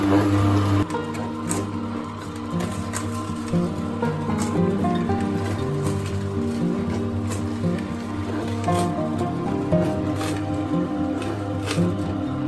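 Kuvings Revo830 slow juicer pressing whole fruit such as pineapple, a steady low motor hum with crunching and squeezing as pieces are fed in, close and continuous throughout.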